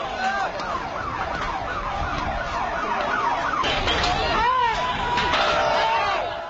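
An ambulance siren wailing in rising and falling sweeps amid a noisy crowd, moderately loud and near, with shouting voices mixed in.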